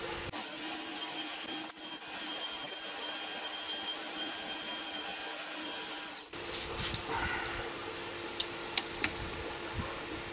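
Homemade milling machine taking a finishing pass on aluminium, a steady motor whine and cutting hiss that shifts in tone partway through, with a few sharp ticks near the end.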